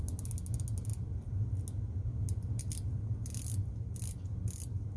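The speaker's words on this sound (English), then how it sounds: "Now let's check out the bezel action." Oliver Green Mare quartz dive watch bezel being rotated, giving rapid ratcheting clicks in quick bursts with short pauses, close and crisp over a low steady background hum.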